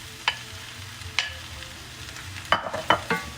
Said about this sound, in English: here's that beautiful time where we throw in our meat back in